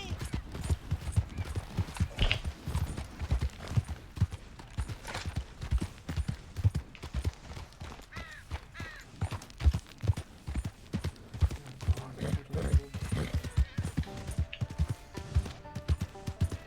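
Horse galloping in Red Dead Redemption 2, steady rapid hoofbeats pounding close and loud throughout, with light game ambience and no talking.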